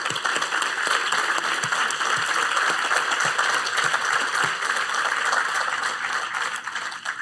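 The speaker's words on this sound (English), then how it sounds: "would you please raise your hand and we can give you a round of applause" An audience at the grand opening of the Academy at Bradenton applauds elected officials, with steady, full-room clapping that holds for several seconds without any talking.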